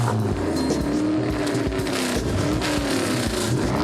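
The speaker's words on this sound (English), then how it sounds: "lots of adrenaline, ear spitting, loud exhaust, and of course the wobbly Subaru sound" Subaru cars with loud exhausts at a Subaru fan festival, engines revving and droning close by with rising and falling tones, tyres briefly squealing, a continuous loud mechanical roar with no talk.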